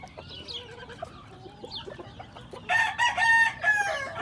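Hens cluck and call close by while being fed, quiet at first and then a burst of loud clucking near the end, with no talking.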